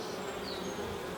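Honeybees buzzing steadily on a frame from a hive built up from a swarm, without foundation, a close, continuous insect drone with a high whine drifting through it.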